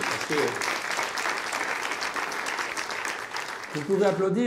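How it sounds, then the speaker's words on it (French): Audience applause at a 2019 New Year greetings ceremony, a sustained crowd clapping throughout, with a speaker's voice briefly heard at the start and again as the clapping fades at the end. "oui, vous pouvez applaudir"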